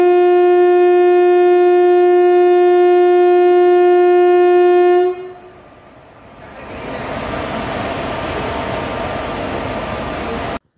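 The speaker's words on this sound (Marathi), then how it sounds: "गाडीने मोठा हॉर्न दिला आणि गाडी निघाली." A Vande Bharat train on the Nashik to Nagpur route gives a loud, sustained horn blast for about five seconds, then settles into a steady rumbling roar as it pulls away.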